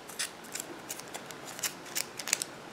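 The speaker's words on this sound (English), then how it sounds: "Then I like to use my small embroidery scissors to cut." Small embroidery scissors snip through yarn on a crocheted child's sweater, a series of about a dozen crisp, close metallic clicks spaced unevenly, with no talking.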